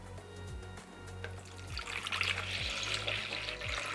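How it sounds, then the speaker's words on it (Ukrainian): Milk pours steadily into a container, a continuous splashing trickle that grows fuller and brighter after the first couple of seconds, with no talking. "В окрему ємність виливаєте молоко."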